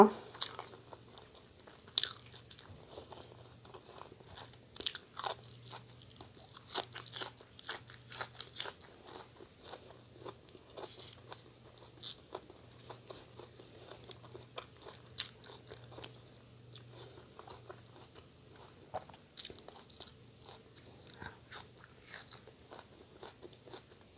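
Crunchy chewing and biting of spicy Thai fish larb, close and steady with irregular crisp crackles through the whole stretch, with no talk.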